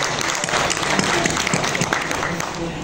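Audience applause rises at a poetry gathering as a Punjabi poet is welcomed, dense steady clapping from a crowd for about three seconds with a voice briefly audible underneath.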